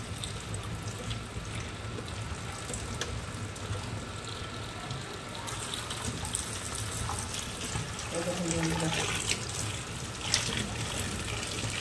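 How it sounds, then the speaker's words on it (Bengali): Raw mangoes are rinsed by hand in water for pickle, giving a steady close splashing and sloshing throughout with some louder swishes, while a voice talks faintly underneath. "ভালো করে ধুয়ে নিতে হবে।"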